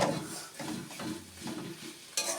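Cabbage and prawns fry in a hot pan while being stirred, giving close, steady sizzling broken by repeated scraping strokes of the spoon against the pan.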